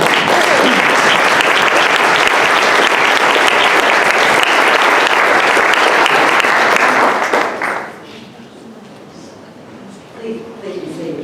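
A room of people at a Rotary Club meeting break into loud, sustained applause for several seconds, the clapping dense and near before it cuts off abruptly into quiet room noise with a bit of murmuring.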